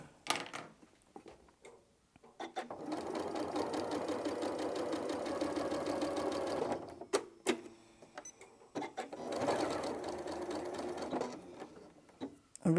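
A home sewing machine runs in a steady, fast stitching whir while binding a quilt, with two long sustained bursts separated by a short pause, a few clicks and handling sounds between them, close and clear.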